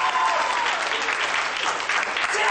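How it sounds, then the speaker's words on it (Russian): Applause from a crowd, a loud dense wash of clapping hands that sustains evenly throughout. "Браво, браво, аплодисменты."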